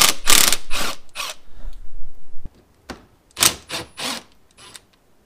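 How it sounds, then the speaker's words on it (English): A power drill fitted with a 90-degree bit spins out 10 mm bolts on a 2019-or-later Toyota RAV4 during a fog light installation, in several short, close, whirring bursts separated by brief pauses, with no voices. "I've got my drill with a 90 degree bit on there."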